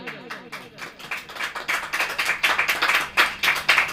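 Congregation clapping hands at a Hindi church sermon, a rapid, uneven patter of many hands that grows denser and louder over a few seconds, with no talk over it.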